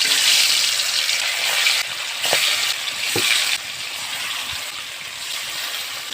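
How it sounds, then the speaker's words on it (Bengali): Pangas fish frying in hot soybean oil in a wok, a steady bright sizzling hiss with a few faint clinks, continuous and fairly close without speech. "তেলটা ভালোভাবে গরম করে নিয়ে আমি একে একে মাছগুলো দিয়ে দিব।"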